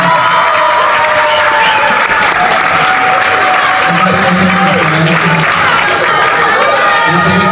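A large crowd at a debate championship in Banjul claps and cheers loudly and continuously, with shouts rising above steady applause throughout.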